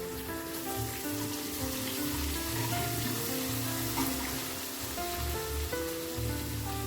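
Curry leaves and coriander fry in hot oil for a Khandeshi dal gandori bhaji, giving a steady, dense sizzle throughout with occasional stirring and low background hum.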